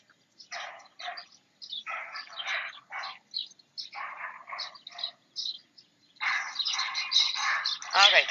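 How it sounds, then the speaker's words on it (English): Bird chirps come in short bursts, some dense and overlapping, with busier chattering toward the end; recorded fairly close and moderately loud. "I am gonna move closer to the bird"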